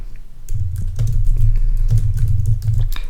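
Steady typing on a computer keyboard while HTML code is written, a close run of quick key clicks over a low background hum.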